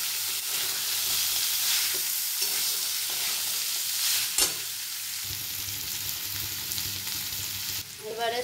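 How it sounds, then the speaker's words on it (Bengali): Chicken mince stir-fried with boiled chana peas in a pan, giving a loud, steady sizzle with scraping stirs throughout and a clatter near the end. "কষে নেব।"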